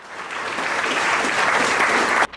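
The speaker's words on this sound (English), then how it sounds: "So a massive round of applause for you guys." A crowd at the KTM New Zealand Adventure Rallye Summit to Sea 2023 motorcycle event claps in steady, dense applause for about two seconds, then stops abruptly.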